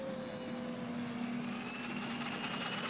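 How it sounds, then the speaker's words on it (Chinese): A Wilson T-34 trainer aircraft taking off, its engine a steady, loud drone with a sustained whine held throughout, fairly close and with no talk. "T34教练机"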